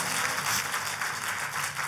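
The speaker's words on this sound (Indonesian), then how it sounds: "Kalau mau tepuk tangannya yang lebih dahsyat lagi buat Yesus Tuhan kita" Congregation at a church service applauding for Jesus, a brief dense wash of many hands clapping at moderate distance.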